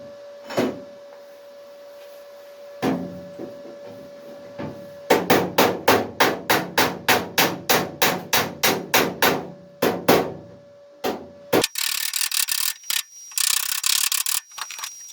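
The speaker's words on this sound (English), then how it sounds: "So a bit more hammering on there, stretch those out, and we'll bring that back in line." Hammer blows reshape the boot lid panel of a Ford Escort MK1 under restoration: a few scattered strikes, then a fast, loud run of close metallic hits, followed by harsher rapid tapping and scraping, with no talk.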